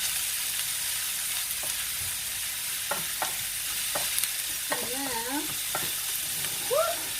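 Utensil stirring egg mixture in a frying pan for a basic egg souffle, a steady soft scraping and sizzling texture with a few brief clinks and faint squeaks, no talk.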